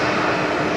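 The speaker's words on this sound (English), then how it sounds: "the next arrival coming in from Newcastle here. Operated by the Alliance liveried Embraer 190." A QantasLink Embraer 190 airliner in Alliance livery arrives from Newcastle at Brisbane Airport, its engines giving a steady, loud, broadband roar throughout with no talk.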